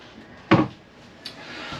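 A small storage drawer in a 2023 Winnebago Micro Minnie 2108FBS camper trailer bumps shut with a single short knock, followed by a faint second click in a quiet interior.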